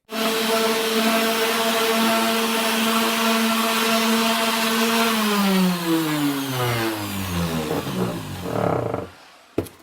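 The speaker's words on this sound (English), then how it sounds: "get a hand planer, and get a head start on sanding this baby down" A loud hand planer whines steadily at a constant pitch, then its tone slides down and back up as it bites into wood and runs on, stopping abruptly near the end.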